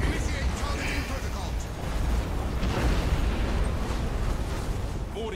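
Continuous booming explosions and rumbling blasts roll through a massive fleet space battle in the video game Battlefleet Gothic: Armada 2, forming a dense, steady wall of noise.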